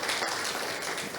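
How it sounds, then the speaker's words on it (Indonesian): A short burst of steady congregation applause at a church worship service, dense and fairly loud, with no voices on top. "mari kita berikan tepuk tangan yang meriah buat Tuhan Yesus"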